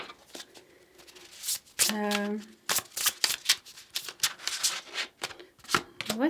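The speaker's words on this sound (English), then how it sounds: "I think we're going to shuffle a little bit more." A deck of cards being shuffled close by, rapid riffling flutters and taps in bursts, with occasional brief voice sounds between.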